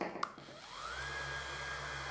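An electric paddle sander whirs up in pitch after a brief click, then runs at a steady high whine, fairly close.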